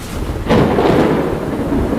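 Thunder and rain on a rainy night: steady rain hiss gives way to a loud rumbling thunder roll that swells about halfway through and keeps rolling under the downpour to the end.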